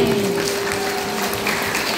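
Congregation clapping in a church after a sermon, a dense steady wash of many hands at moderate loudness, continuous for the whole stretch with a faint sustained tone underneath.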